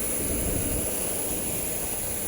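An Air India Express jet airliner at the airport produces a steady, dense engine roar that continues unbroken, with no talk over it.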